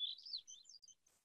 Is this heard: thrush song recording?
yes